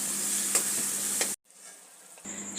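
Spices fry and are stirred in a pan for a Bengali jackfruit and prawn curry, with a dense steady sizzle and a few scraping stirs. The sound cuts out abruptly partway through, then a fainter hiss returns.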